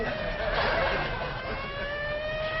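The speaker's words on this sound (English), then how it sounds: "Them sirens! Somebody's calling the law." A distant siren wails steadily over low background rumble, its tone holding and slowly wavering for a couple of seconds.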